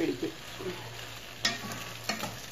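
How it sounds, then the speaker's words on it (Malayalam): Cooked macaroni being stirred into a sizzling chicken mixture in a pan, soft frying hiss with a few sharp scraping spoon strokes, close up. "എന്നിട്ട് നമ്മൾ വേവിച്ച് വെച്ച മാക്രോണി ഇതിനകത്തോട്ട് ഇട്ടിട്ട് നല്ലപോലെ മിക്സ് ചെയ്യും"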